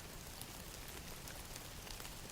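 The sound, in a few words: steady rain falling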